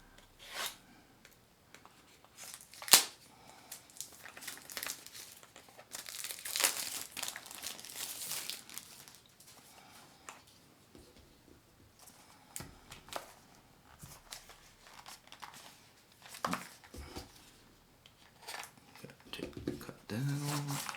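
Plastic packaging of a Big Idea Design Slim Bolt Action pen is crinkled and torn open in bursts of rustling and crackling, with a sharp snap partway through and quieter handling between.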